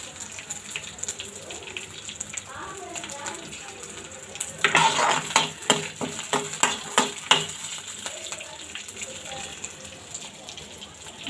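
Green chillies fry in oil in a pan, a low crackling sizzle that turns into a run of louder stirring scrapes and spattering bursts midway, heard up close.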